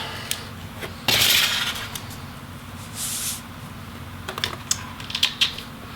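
Plastic parts of a Dell XPS 15 9570 laptop palm rest assembly click and snap apart, with one louder crack followed by a few light taps and rattles close by.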